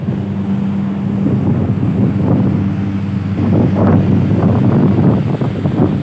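Steady wind buffets the microphone over a low, constant engine hum aboard a small ship carrying a train to Rome across the sea, with no voices.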